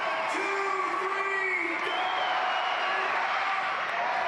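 Crowd at a Savannah Bananas baseball game cheering and whooping in a steady, sustained roar from the stands, with scattered shouts and voices mixed in.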